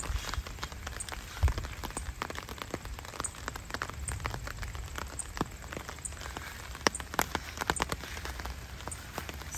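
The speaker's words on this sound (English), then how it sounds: "So today only one is opened and it is raining. You can see the raindrops." Steady rain pattering on plants and surfaces in a summer garden with hydrangea and trumpet vine, a dense continuous hiss scattered with sharp individual drop taps, close and moderately loud, with no voices.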